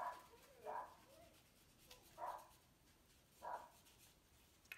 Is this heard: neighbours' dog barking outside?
yes